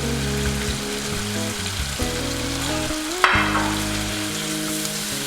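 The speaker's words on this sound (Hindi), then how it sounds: "आज मैं डायरेक्ट चिकन फ्राई करके और मसाले डाल के बना रही हूँ" Chicken fries with black pepper, white pepper and garam masala in a hot pan, giving a loud, steady, crackling sizzle up close. Musical tones sit under it, with one sharp clatter of stirring partway through and no speech.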